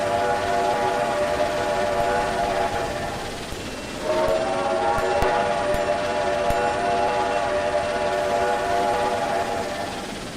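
Train rolling steadily past a trackside defect detector in the Trainz rail simulator, a continuous loud rumble with sustained horn-like tonal lines that swell briefly midway, heard alone with no talk.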